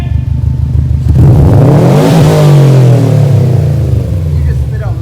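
A 2019 Subaru WRX STI with an Invidia R400 exhaust revs hard close up, its loud engine note climbing and then sliding back down over a steady idle rumble.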